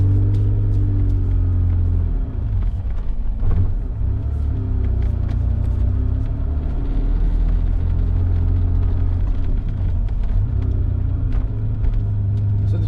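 Vintage Porsche 911 driven on a cold day with a cold transmission, a steady low engine rumble from inside the car with slight changes in pitch as it shifts through gears, no talking.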